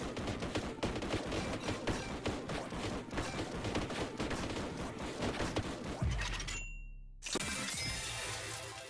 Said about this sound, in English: More bolt guns!